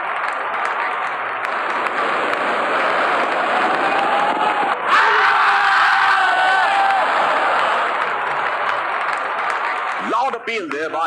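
A packed crowd at a Pakistan vs Sri Lanka ODI cricket match roars and cheers after a boundary four, a dense, sustained wash of voices with a commentator talking over it.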